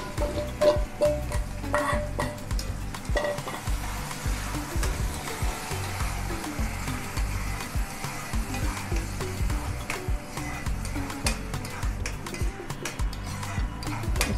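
Spinach being fried and stirred into a homemade paneer gravy, with steady sizzling and repeated clinks and scrapes of a spoon against the pan, close and continuous throughout.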